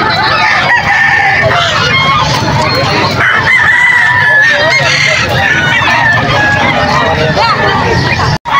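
Dense chicken chatter with clucking and occasional crowing at a poultry market in Calumpit, busy and loud throughout, voices mixed into a crowded market din.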